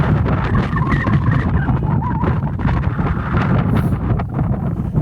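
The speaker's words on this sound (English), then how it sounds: "Oh man, it's really windy." Strong wind buffets the microphone continuously on a street in Hobart, Wisconsin, a loud low rumble with gusty rustling throughout and no voices.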